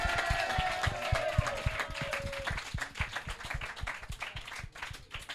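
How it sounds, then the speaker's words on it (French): An audience claps rhythmically for two people on stage, with a steady beat of sharp claps. A sustained tone sounds in the first half. "j'ai envie de les applaudir"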